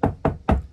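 Three distinct knocks on a hollow interior wall of a 2021 Wolf Pup 16FQBL travel trailer, evenly spaced, close and resonant with a drum-like boom.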